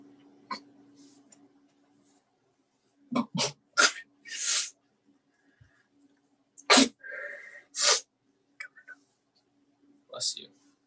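A person sneezes during an online hackathon presentation call, with sharp bursts separated by quiet gaps and some breathy sounds, fairly close.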